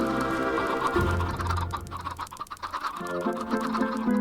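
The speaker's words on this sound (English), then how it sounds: "It's literally showering chickens down here." Chickens cluck and squawk in a Minecraft game as a flock showers down, a dense, busy stream of bird calls with scratchy clatter, steady and fairly close throughout.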